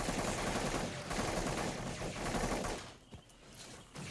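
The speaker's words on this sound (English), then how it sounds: "our teammate's shooting at me" Rapid automatic gunfire from a teammate in The Cycle video game, a dense sustained burst of shots that stops abruptly near the end, leaving quieter game ambience.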